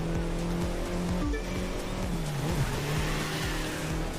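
An engine in the racing game The Crew 2 drones loudly and steadily as the car drives off-road, with shifting engine tones and a rough rumble under it.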